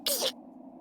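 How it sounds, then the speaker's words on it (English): A single short, sharp sneeze from the video game Utawarerumono: Mask of Truth, quick and close, followed by quiet. "Nekona's sneeze brings us to our senses."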